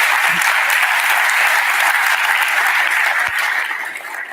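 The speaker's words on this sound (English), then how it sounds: "They all deserve a round of applause" A large audience at a Royal Institution live event gives a round of applause, a loud dense sustained roar of clapping that fades slightly toward the end.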